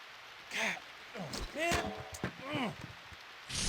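Steady rain patters on a football field in ESPN NFL 2K5, a hiss under a commentator's speech during a Browns versus Redskins game.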